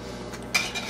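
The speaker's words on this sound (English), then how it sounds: "I'm gonna stir this in, then I'm gonna bowl it up" A spoon stirs American cheese into broccoli soup in a pot, giving a soft scrape and a brief clink of utensil on metal over a low steady background, with no talking.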